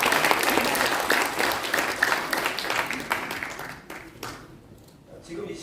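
An indoor audience at a Korean civic gathering gives a burst of loud, dense applause that thins out and fades over several seconds, with scattered claps continuing at the end.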